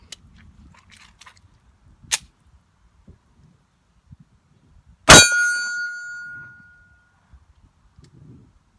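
A .45 ACP Ruger SR1911 pistol hitting an AR500 steel target outdoors, heard as one loud sharp shot with a bright metallic ring that decays over about a second, after a smaller earlier crack and faint background rustle.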